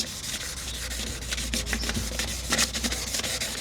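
Continuous close-up rubbing of fine sandpaper against a car wheel, with brisk back-and-forth strokes over a low steady hum.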